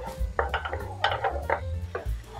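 Onion going into butter or oil in a frying pan on a stove as it is stir-fried for fried macaroni, heard as close clinks and scrapes of a utensil against the pan with a faint sizzle underneath.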